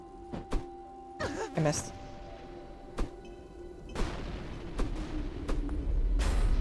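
A grenade goes off in a video game as a sharp boom among several gunfire-like blasts, while a player talks briefly over the bangs and a steady background hum.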